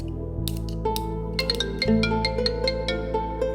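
A phone rings with a bright, melodic electronic tone, the notes repeating over a steady low hum, fairly loud and close.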